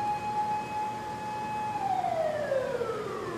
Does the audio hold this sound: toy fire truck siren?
yes